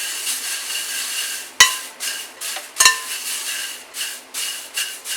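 Chocolate mixture with rum stirred in a bowl, a steady scraping swish with two sharp utensil knocks against the rim, moderately close, no talking.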